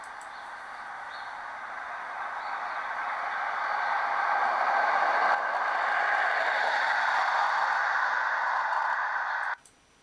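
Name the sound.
recording of an approaching vehicle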